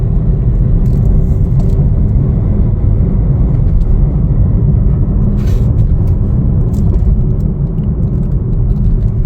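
A 2021 Chevrolet Trailblazer LS is driving, its cabin filled with a steady, loud low road rumble and engine hum, with no voices present.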